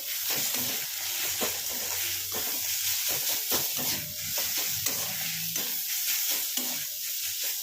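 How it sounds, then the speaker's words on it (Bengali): Potato sandwich filling stirred and mixed in a hot pan with a steady sizzle and repeated scraping strokes of a spoon, close and continuous with no talking. "ভালো করে এগুলোকে মিশিয়ে নেব"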